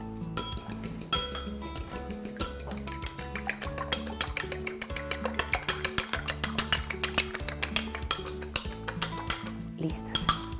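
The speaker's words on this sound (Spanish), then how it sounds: "Partimos un huevo y lo vamos a batir bien." An egg cracked and beaten in a bowl for a cheese and jam-filled roscón de reyes, with rapid rhythmic clinking of utensil against the bowl, steady and close.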